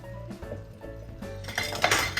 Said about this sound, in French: On mélange doucement pour ne pas les écraser.